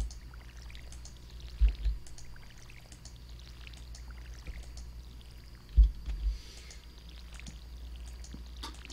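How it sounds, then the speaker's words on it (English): A watering can pours onto crops in Stardew Valley, soft splashing pour sounds in two brief bursts amid quiet game ambience and faint chimes, with no speech. "I need to be really good with my watering can, though."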